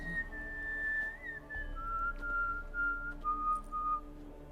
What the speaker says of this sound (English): What's with the whistle?